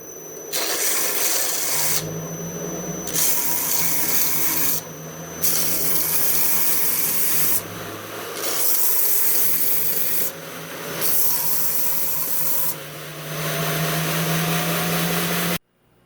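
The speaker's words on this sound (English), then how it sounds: "The belt sander." A belt sander works a cigar kit pen blank in repeated close, abrasive passes of a second or two each, the rough rubbing whir cutting in and out with short pauses between.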